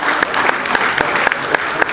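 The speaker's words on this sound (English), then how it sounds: "give him a big round of applause" A crowd applauds at a Missouri bluegrass awards ceremony, steady dense clapping throughout with a few sharper individual claps standing out, fairly close and loud.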